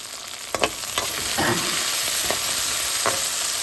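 Rava (sooji) uppu maa sizzles steadily in a hot pan while a utensil scrapes and stirs it in a few quick strokes.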